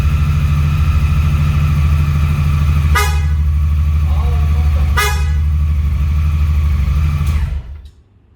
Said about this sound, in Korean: 클락시험 깜짝 놀랐습니다